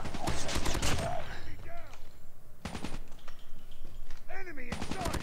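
Call of Duty Mobile match with KN-44 rifle fire: several short, sharp bursts of shots scattered through the stretch, mixed with game effects and faint voices in the background.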